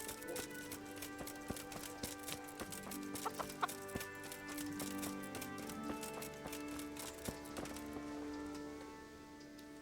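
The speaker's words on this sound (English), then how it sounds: "Excuse me, chickens." Chickens cluck and squawk in a farmyard in the video game Kingdom Come: Deliverance, several birds close by over a soft background of hoof clip-clops and ambient noise.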